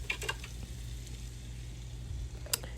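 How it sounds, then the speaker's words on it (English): Meat pie filling sizzles and fries quietly in a pan as it is stirred, with a few soft scrapes over a steady low crackle. "So I just stir to make sure the meat cooks."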